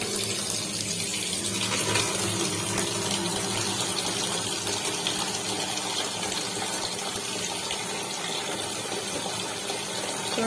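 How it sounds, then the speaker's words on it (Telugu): Cold water pouring while making paneer from curdled milk, a steady gushing splash like a running tap into a vessel that continues evenly for about ten seconds with no talking. "కొంచెం చన్నీళ్ళు పోసుకోవాలి"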